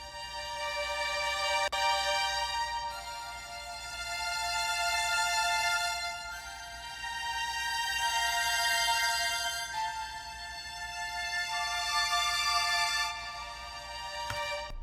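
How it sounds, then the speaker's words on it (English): Spitfire chamber strings from a Contact sample library, played solo with Valhalla reverb: sustained harmonic string chords swell and fade in long phrases, with smooth changes about every three seconds and no voices. "They were the Spitfire chamber strings."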